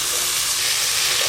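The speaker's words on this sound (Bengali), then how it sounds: "তেলের মধ্যে আলুগুলো দিয়ে একদম হালকা করে নেড়ে নিয়েছি।" Potato pieces frying in hot oil while being lightly stirred, a steady loud sizzle with bubbling hiss throughout and no talk.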